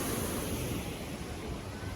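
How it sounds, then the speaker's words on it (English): A water mill on the Shipwreck Rapids ride at SeaWorld San Diego produces a steady, dense rush of churning water that fills the scene evenly without pause. "That water mill is going there."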